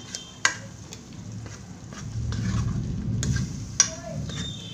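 Masala being stirred and fried in a pan over a high flame, a steady low sizzle with scraping spoon strokes and a few sharp clinks against the pan, close up.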